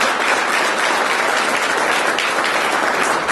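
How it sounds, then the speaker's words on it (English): A seminar audience breaks into applause, a dense, even burst of many hands clapping together at close range, with no talking over it. "Let's give them a round of applause as well."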